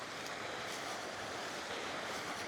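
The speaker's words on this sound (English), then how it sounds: "that familiar sound of water that I've missed" Broadband rushing water outdoors in the Peak District near Glossop, a steady close wash with light wind, no voices.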